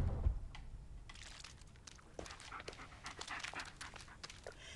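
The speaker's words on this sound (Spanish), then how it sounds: "Qué mono que es el perro, por favor." A dog in the video game Blair Witch pants steadily and quietly nearby for several seconds, with faint crinkling and shuffling sounds between the breaths.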